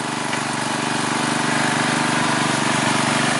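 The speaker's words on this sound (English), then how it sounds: "you're going to go over with a power washer again" Power washer at work cleaning car tires, a loud, steady engine-driven drone with an even buzzing pulse that holds without a break.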